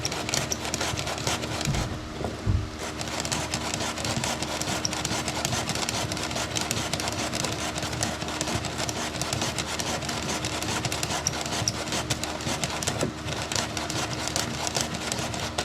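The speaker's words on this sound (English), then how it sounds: "Right now I'm sifting the sand." Sand for a metal casting mold is sifted through a flour sifter, giving a steady, close grainy rasping and rubbing that continues without a break, with a brief dip partway through.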